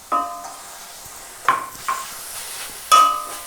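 Spring roll filling stirred in a pan, with a few separate scraping clinks of utensil against metal over a faint sizzle, spaced well apart and fairly close.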